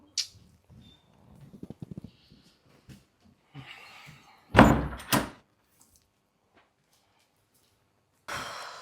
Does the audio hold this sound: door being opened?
yes